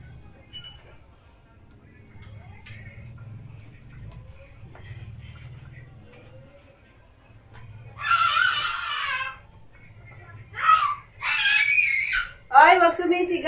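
A child screams loudly in a home kitchen during cooking of dinaing na bangus, in several sharp shrill bursts after a stretch of quiet clinking and low background noise.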